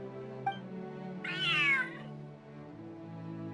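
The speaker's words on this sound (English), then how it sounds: "Northland cat." A Northland cat in the video game Genshin Impact gives one clear, close meow that rises and falls over a steady musical game background, with no talking.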